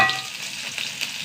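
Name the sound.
mustard seeds sputtering in hot oil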